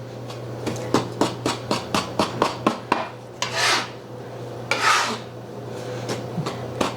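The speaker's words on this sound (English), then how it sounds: "I'm just going to mix this up with the flour." Eggs and spinach powder being stirred by hand into flour in a bowl, a quick series of sharp utensil taps and scrapes against the dish followed by a couple of longer rubbing swishes, close and clear.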